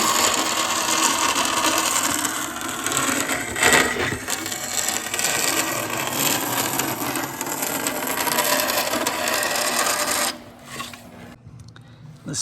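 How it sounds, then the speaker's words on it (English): Bandsaw slicing out a pattern piece in a workshop, a loud, steady rasping whine that runs continuously for about ten seconds before cutting off into quieter shop noise. "we'll cut that out on the bandsaw"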